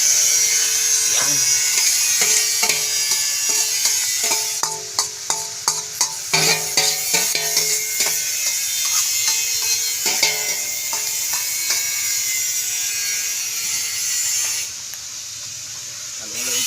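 Chicken isaw (grilled-style intestines) being stirred and fried in a pan at a village fiesta cook-out, a steady loud sizzle with scraping, clattering utensil strokes through the middle, voices faint in the background.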